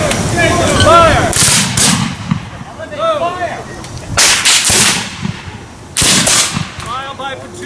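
Rifle volleys at a Civil War reenactment weekend: several loud, sharp cracks with ragged echoing tails ring out at intervals, while whistling and voices carry between the shots.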